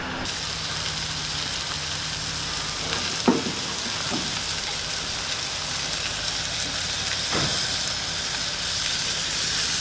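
Mantis shrimp sizzle in butter over charcoal briquettes, a constant close frying hiss with a few scraping or stirring knocks along the way, no voices.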